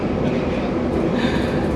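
A passenger train runs at speed, heard from inside the dining car as a steady, loud rumble and roar with faint rattling throughout and no clear talking.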